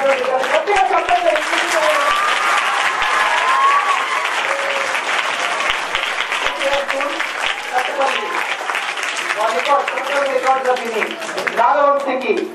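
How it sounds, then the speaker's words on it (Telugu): A school student-talent event audience claps loudly and steadily for about twelve seconds, dense continuous applause with a presenter's voice speaking over it throughout. "గట్టిగా చప్పట్లు"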